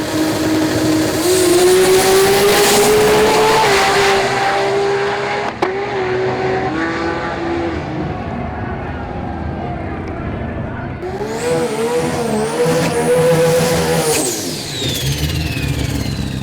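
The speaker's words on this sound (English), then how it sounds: "This was the first time we'd seen Alex Satosky's R33 Skyline in action" Nissan R33 Skyline drag car making a pass at a sport compact drag racing event, its engine revving hard and rising through gears at close range, easing off midway before pulling strongly again.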